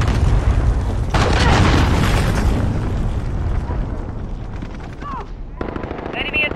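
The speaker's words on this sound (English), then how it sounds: "Enemy cruise missile incoming." Loud game explosions and heavy gunfire from a Call of Duty Modern Warfare match, a booming blast with a dense rumbling burst near the start, followed by continuous rattling battle noise with short game voice callouts.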